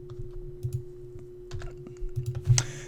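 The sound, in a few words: typing numbers on a calculator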